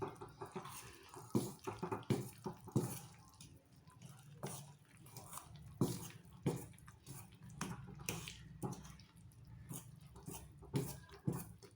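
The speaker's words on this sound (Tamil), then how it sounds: "இந்த கிரைண்டர் கழுவுன தண்ணியை எடுத்து இதில் ஊற்றிக்கிறேன்" Water left over from rinsing a wet grinder being poured into thick kuzhi paniyaram batter: soft splashy pouring and dripping close by, with small intermittent plops and taps against the vessel and no talking.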